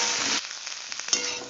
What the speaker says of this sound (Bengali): কপিগুলোকে উল্টে পাল্টে ভালো করে ভেজে নেব।